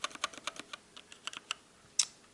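Keys clack on a Motospeed CK62 mechanical keyboard, a quick irregular run of crisp close taps of varying loudness, ending with one sharper press after a short pause.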